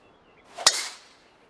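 A golf ball is struck in the PGA Tour 2K23 video game, giving one crisp, sharp crack with a brief fading swish after it and no talk over it.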